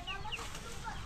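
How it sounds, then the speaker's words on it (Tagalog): Chickens cluck in short, soft bursts close by on a plot of land being cleared, the calls scattered and fairly faint over a hushed background. "Nagsilabasan yung mga manok eh."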